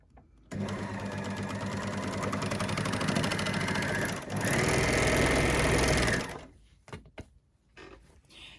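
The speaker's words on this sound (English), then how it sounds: "just working 1 inch from the left needle position on the overlocker to the point of that seam" An overlocker runs a seam on a fabric cosmetic bag, whirring steadily and loudly for about six seconds with a brief dip midway, then stops, leaving a few soft handling clicks.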